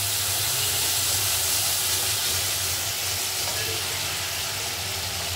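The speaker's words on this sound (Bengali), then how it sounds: "গ্যাসটা লো করে একটু মশলাটা কষিয়ে নেব।" Chili, turmeric, cumin and mustard paste masala frying in oil over a low gas flame: a steady, close sizzling hiss that holds evenly throughout.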